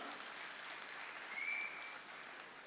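An audience at a conference claps together in one sustained round of applause, an even wash of hand claps that sounds fairly distant and stays steady throughout.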